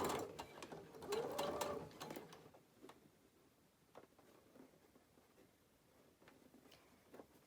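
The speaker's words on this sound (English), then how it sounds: "I will sew right up to the pin, but I do not sew over the pin." A sewing machine stitches a quilt seam right up to a pin, running in a steady burst for a few seconds before easing off into quiet, scattered clicks and ticks.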